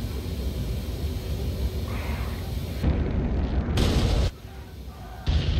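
A bomb strikes its ground target in the DCS F/A-18C Hornet flight simulator, heavy rumbling booms arriving in a few broad bursts over a constant jet cockpit drone.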